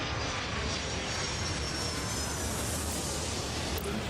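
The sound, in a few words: airplane engines as planes land, from video game Airport Madness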